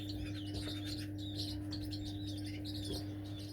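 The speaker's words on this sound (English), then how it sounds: "the first pair of canaries in." Canaries chirp in a cage inside a bird shed: a steady stream of quick, high tweets and short calls over a constant low mechanical hum, with no talking.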